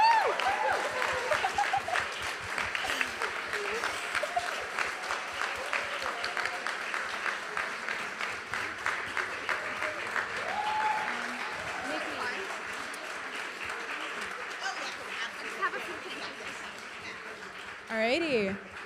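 An audience at a short-film screening applauds the cast and crew, sustained clapping mixed with chatter and a few chuckles, continuing at steady loudness before briefly swelling near the end.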